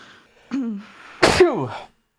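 A single sneeze up close, preceded by a short sharp inhale, loud and abrupt, then trailing off into silence.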